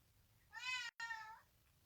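A cat meows twice in quick succession, a close, fairly loud drawn-out call broken by a brief gap, with no talking.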